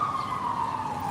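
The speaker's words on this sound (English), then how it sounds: "I don't know if this ambulance is coming or not up the block." An ambulance siren sounds up the block, a steady, fairly loud wail holding one sustained tone that slowly drifts lower, with no talk over it.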